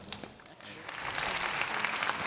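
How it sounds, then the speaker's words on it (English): Crowd applause at a professional table tennis final, the Australian Open match between Feng Tianwei and Misaki Morizono, a soft clapping wash that swells and thickens over a couple of seconds, with faint voices beneath. "Crowd giving support for both players."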